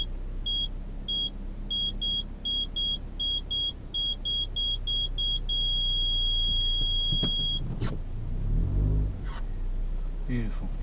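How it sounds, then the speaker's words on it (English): Toyota RAV4 2WD park distance control sounds a series of short, evenly spaced high beeps that quicken and then merge into one steady tone, over a low road rumble, followed by a few thumps and clatter. "Start hearing the bleeping, that's the park distance control working."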